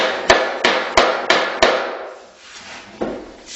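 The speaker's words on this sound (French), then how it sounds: "Toujours taper avec votre cale martyr au même endroit" A hammer knocks on a tapping block to drive a parquet board into place, five sharp, loud, evenly spaced blows, a pause, then one more strike.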